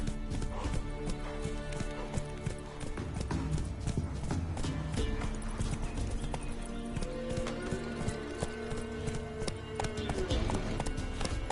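Galloping horse hooves in the video game The Witcher 3, a continuous brisk clip-clop rhythm under dense game ambience and music, holding steady for the whole stretch with no talk.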